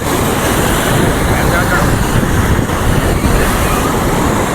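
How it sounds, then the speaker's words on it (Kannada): Big ocean waves crash and roll continuously at Malpe beach, a loud, steady wash of surf mixed with wind noise on the microphone. "ದೊಡ್ಡ ದೊಡ್ಡ ಅಲೆಗಳು ಬರ್ತಾ ಇದ್ದಾವೆ"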